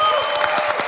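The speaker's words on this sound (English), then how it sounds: "big round of applause for 80!" A pitch competition audience at a startup event's grand final applauds a presenter, with steady dense clapping and faint cheering throughout, brief and full.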